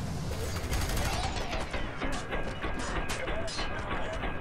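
Gunfire rattles continuously while enemies are shot in the video game F.E.A.R. 3, a dense, loud barrage of rapid shots and explosions, with voices mixed into the chaotic noise.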